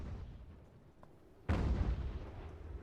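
Cannon firing canister shot in the Ultimate General: American Revolution strategy game, a single sudden heavy boom after a quieter stretch, followed by a rumbling tail of battle noise.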